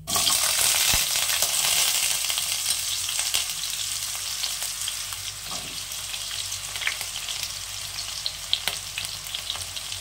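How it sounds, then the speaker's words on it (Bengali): Potatoes sizzle steadily in hot mustard oil with black cumin in a wok, a loud continuous frying hiss with occasional crackles and stirring scrapes, no voices. "এবার আলুটা একটু ভেজে নেব হালকা করে"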